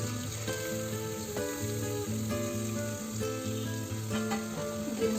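Two chopped onions hit hot oil with spices for vegetable pulao, sizzling steadily and close with a rhythmic scraping stir repeating about once a second, no voices.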